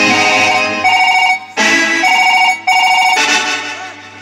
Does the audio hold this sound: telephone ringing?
yes